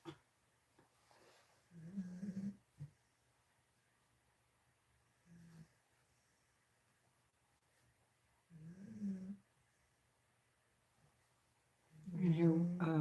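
Willa snores in low, slow rasping breaths, several separate snorts a few seconds apart, fairly close but soft, under a faint steady hum.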